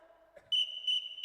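A whistle sounds in short bursts like a Morse code signal, with two bright shrill blasts that run into a sustained high tone during a school student day performance, with a faint low hum beneath.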